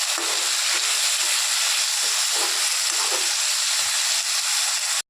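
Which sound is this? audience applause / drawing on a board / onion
onion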